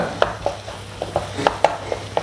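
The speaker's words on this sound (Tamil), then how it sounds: "வெங்காயம் கொஞ்சம் வதங்கிட்டு இருக்கு. இன்னும் கொஞ்சம் வதங்கிடட்டும்." Onions sautéing in a home kitchen pan while momos are being made. A soft background sizzle sits under a series of sharp, evenly spaced spatula scrapes and taps, fairly close and moderately loud.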